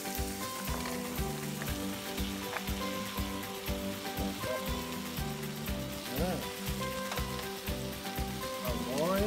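Organic bitter gourd (ampalaya) frying in a pan with steady close sizzling, plus a regular scraping rhythm as the slices are stirred.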